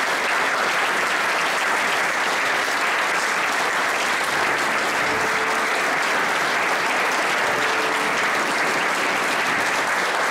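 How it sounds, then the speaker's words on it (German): Dense, sustained applause from a concert audience at a Klezmer concert in Kottingbrunn, a steady wash of clapping that fills the whole stretch with no break. "Begrüßen Sie mit einem kräftigen Applaus Sascha Danilov."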